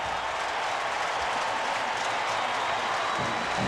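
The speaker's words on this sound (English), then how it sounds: "They're on their feet at Memorial Stadium trying to cheer on the defense." Stadium crowd at a college football game, UNC versus Clemson at Memorial Stadium in 1999, cheering and applauding after a defensive sack; a dense, steady roar of clapping and shouting fills the whole span without letup.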